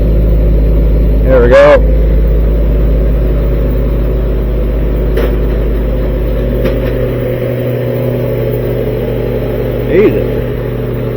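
A 1943 Army Jeep engine idles steadily and loudly with a deep, even rumble, its throttle eased down; a brief voice speaks near the start and small rev blips appear later.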